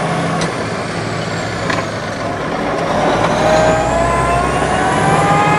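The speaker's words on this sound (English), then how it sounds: "Double clutch again for fifth." An Eaton Fuller Super 10 ten-speed truck driving along, the diesel engine droning steadily under load and rising slightly in pitch as it revs through a gear change, loud and close inside the cab.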